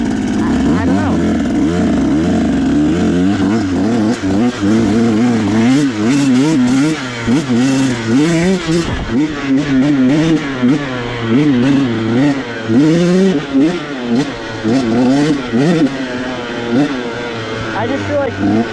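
A KTM 150sx two-stroke dirt bike engine revs and bwaps up and down while riding near mines and meadows, loud and close with a speaking voice over the engine.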